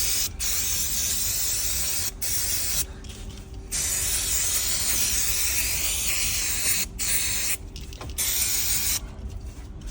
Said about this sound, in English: Can you spray this plastic?